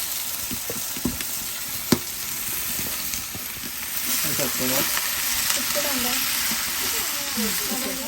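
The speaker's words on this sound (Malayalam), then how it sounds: "ഞാൻ എണ്ണയിൽ തന്നെ ഉള്ളി എടുത്ത് ഉള്ളി വായിക്കുകയാണ് നമ്മൾ" Onions fry in oil for biryani with a loud, steady sizzle at close range, broken by a few sharp clinks early on; a voice talks faintly beneath the frying in the later part.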